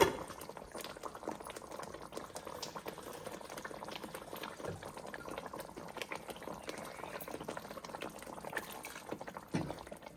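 A tomato and capsicum masala curry simmers in a pan, giving a soft, continuous bubbling and popping that stays faint and steady throughout with no one speaking.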